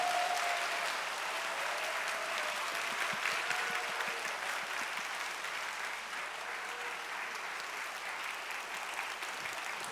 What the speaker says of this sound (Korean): 반가운 마음 담아서 박수로 모시도록 하겠습니다